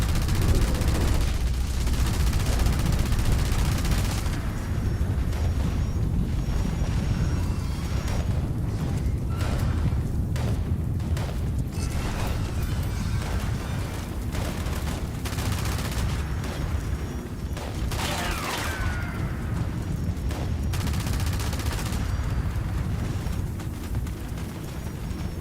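Sustained gunfire from a Vanguard enemy in the Fallout 76 video game, dense overlapping shots and booms running continuously at steady loudness throughout, with no speech.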